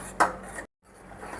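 Carrot halwa being stirred with milk in a pan for a bakery-style sweet: a single sharp utensil knock against the pan, a brief scrape, then a short silence before faint stirring resumes.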